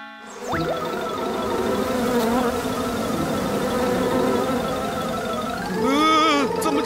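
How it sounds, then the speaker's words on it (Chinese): A cartoon swarm of bees hums in a steady, droning buzz that holds for several seconds, then swells into a wobbling, boing-like warble near the end. "这么多蜜蜂啊！"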